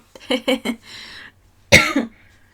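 Three short bursts of a voice, then a hum, then a single sharp, harsh cough close to the mic with a brief rasp trailing after.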